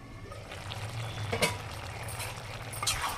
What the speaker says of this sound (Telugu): కొద్ది వాటర్ వేసి బాగా కలుపుకొని మూత పెట్టి కొద్దిగా ఉడికిద్దాం